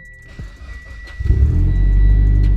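A car engine, running in gear with the car up on a lift, starts low and quiet, then swells into a steady, heavy rumble that holds loud and close to the end.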